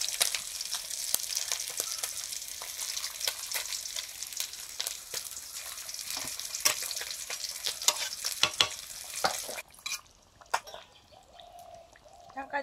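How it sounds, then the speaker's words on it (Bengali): Potatoes, beans and radish frying and being stirred in a pan for a village-style chicken curry, a steady close sizzle with scraping stirs throughout, fading sharply near the end. "হালকা করে ঝোলের সবজিগুলো ভেজে নিচ্ছি।"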